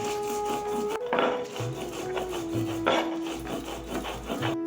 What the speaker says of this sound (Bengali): আর কাঁচা লঙ্কা বেটে নিচ্ছি